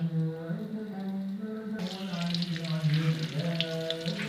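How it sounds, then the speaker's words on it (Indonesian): Sambal terasi ingredients frying over low heat give a soft, continuous crackle and sizzle, with a low hum beneath and a brief brighter burst partway through. "Ini kita goreng dengan api kecil ya, biar tidak gosong."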